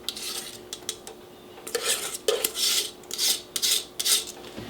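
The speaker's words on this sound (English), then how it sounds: "I'm going to start whisking them together" A whisk works egg yolks into a warm chocolate mixture in a bowl, giving close, irregular bursts of metallic scraping and clicking against the sides, with brief pauses between strokes and no speech.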